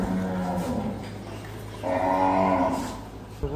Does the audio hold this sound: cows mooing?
yes